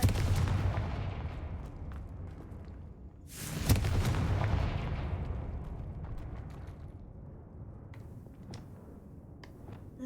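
A Confringo blasting curse from the Hogwarts Legacy video game: a heavy, booming explosion that hits suddenly, then a long, rumbling decay fading over several seconds, with faint crackles trailing off.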